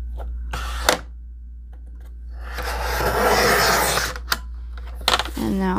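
Cutting notches into the pages of an upcycled vintage 1900s book turned lap book, a sustained close rasping cut with a few sharp clicks and taps around it, a voice speaking briefly over it.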